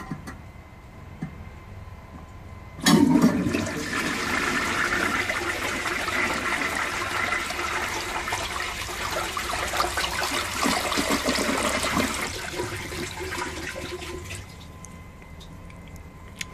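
A 1944 Eljer Waco toilet flushes once, starting with a sudden loud rush of water, then a steady close-up swirl and drain that continues for about ten seconds before tapering off into a quiet trickle.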